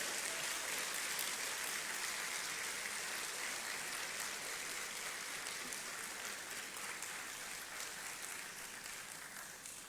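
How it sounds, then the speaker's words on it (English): An audience at a Ghanaian citizenship ceremony applauds in a dense, steady wash of clapping that holds for about ten seconds, heard from a distance and evenly spread. "Please welcome her with warm applause."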